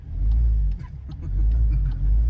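VW Golf 8 GTI with a downpipe fitted, its engine giving a deep, loud rumble that dips briefly then swells again as it revs, heard close up with faint clicks and pops over it.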